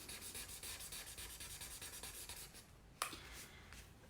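A chisel-nib marker rubs back and forth across paper, a steady run of soft scratchy strokes up close, ending with a brief sharp tap before quieter rubbing resumes.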